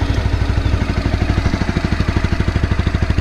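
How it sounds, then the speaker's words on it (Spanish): A Honda CBR250R motorcycle engine, a 2014–2017 model, running at a steady idle with a regular low chugging exhaust pulse, close and loud throughout. "vamos a encender el motor para que ustedes sean testigos que realmente se escucha bien."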